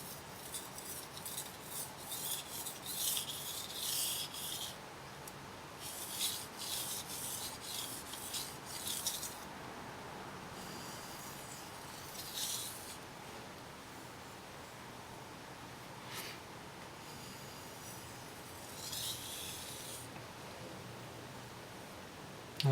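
A Mizuno knife is drawn across a recently flattened whetstone in repeated bursts of gritty scraping strokes, close and fairly quiet, with short pauses between sets and no talk.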